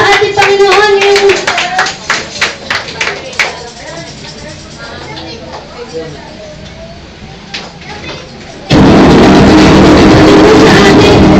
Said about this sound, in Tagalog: Isang malakas na palakpak nga po sa ating Panginoon